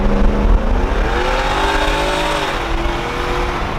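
A Tesla Cybertruck accelerates hard from a rolling start, its steady electric motor whine rising in pitch alongside loud road and wind noise, close to the listener with no voices.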